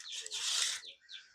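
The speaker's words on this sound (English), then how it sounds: "Buddy, those birds" Birds chirp outdoors at a pool liner installation site, a dense run of high twittering calls followed by a softer burst, fairly close and with no talk.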